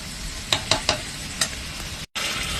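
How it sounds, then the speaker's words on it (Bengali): Eggplant and soybean chunks sautéing in a pan, a close continuous sizzle with a few sharp clicks of a spatula against the pan, then a brief dropout before the sizzle returns. "বেগুন সয়াবিনগুলো সব দিয়ে দিয়েছি তারপরে একটু কষিয়ে নিচ্ছি"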